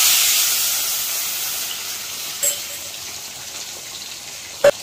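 Rasam of tamarind and tomato heats in a pot until it froths lightly. A close, steady bubbling hiss slowly fades, broken by a couple of brief knocks, with no talk.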